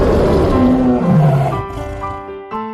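A lion roars loudly and close, a deep, rough, falling growl lasting over a second, then fading into tonal music in a children's fable soundtrack.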